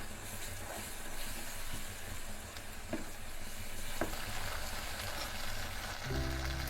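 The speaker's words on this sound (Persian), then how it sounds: "یکم تو روغن تفتش میدیم تا خامی رب گرفته بشه" Tomato paste fries in hot oil in a pan, a steady, dense sizzling hiss that holds at an even level throughout, close by and without any voices.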